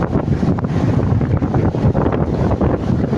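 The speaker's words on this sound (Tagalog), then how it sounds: "medyo malakas pong hangin" Steady, heavy wind of about 20 roars and buffets the microphone in a continuous low rush, with no voices.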